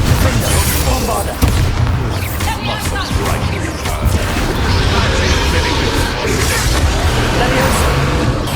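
Spell blasts and explosions from Hogwarts Legacy on PS5 keep booming in a steady loud barrage, with broadband crashes and rumbling hits running throughout and bursts of combat noise layered over each other.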